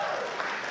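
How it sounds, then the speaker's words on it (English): Brief burst of hand clapping from an interfaith conference audience of faith leaders, dense and steady for under a second. "Can you just give yourself a really big hand clap?"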